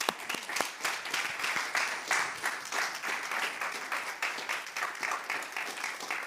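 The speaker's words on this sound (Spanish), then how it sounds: "Un aplauso al Señor." A church congregation at a Sunday service claps in steady applause, many hands forming a rhythmic, pulsing patter that carries on without a break.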